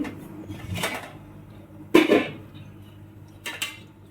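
A metal lid is lifted off a steamer of maize dhokla batter in a home kitchen, giving a sharp metallic clank followed by a second, lighter clink a moment later, close by with no talk.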